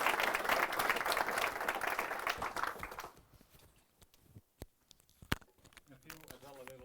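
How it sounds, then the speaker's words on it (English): An audience at a smart-buildings tech meetup claps loudly and steadily for about three seconds, then the applause dies away into a quieter room with a few scattered sounds and a voice. "give me a round of applause."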